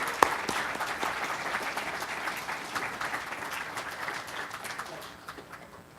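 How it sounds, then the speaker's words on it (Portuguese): Audience applause for the president of Finep at a lecture event, a dense, steady clapping from a large crowd that carries on for several seconds and slowly fades toward the end, with no one speaking over it. "Eu peço a todos uma grande salva de palmas"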